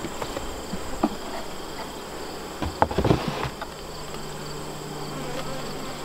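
Honeybees buzzing around an open hive with honeycomb while smoke calms them, a dense close hum of many insects with soft handling taps and knocks partway through.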